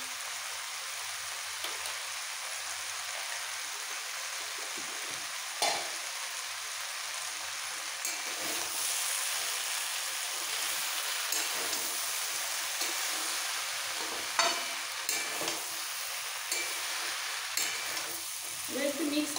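Labra mixed vegetable curry sautéing with red chili powder, a steady broadband sizzle with scattered spoon scrapes and stirring knocks throughout, close and continuous with no talk.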